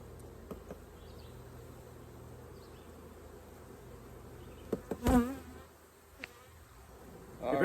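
Honey bees hum steadily around an open hive on a homestead in spring, a soft continuous buzz with a few louder passes close by and some brief handling knocks.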